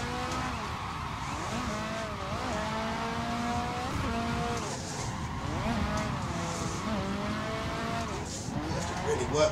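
A Nissan S14 in street-spec drift trim revs hard in Assetto Corsa, its engine note rising and falling continuously with long tire squeals as it slides through corners, loud and close throughout.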